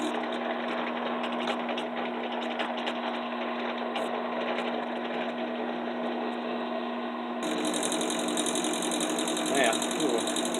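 A power drill bores holes through a knife handle in a workshop, a steady mechanical whine running throughout and turning brighter and louder near the end.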